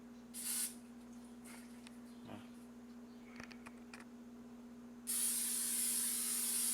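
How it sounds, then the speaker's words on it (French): Olive oil sprayed onto penne pasta: a short hissing spray burst near the start, quiet clinks and handling sounds with a steady hum, then a longer, louder continuous spray hiss at the end. "On va spray un peu d'huile d'olive dessus. Sur notre penne."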